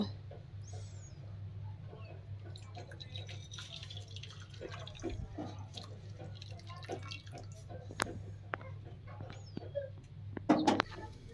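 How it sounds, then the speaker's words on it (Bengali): Sugar syrup for heart-shaped pitha poured from a pan into a bowl, heard as soft, sparse drips and trickles over a steady low kitchen hum, with a brighter splash of drips near the end. "আমার চিনির সিরাপটা রেডি হয়ে গেছে। এবার আমরা একটি পাত্রে ঢেলে নেব।"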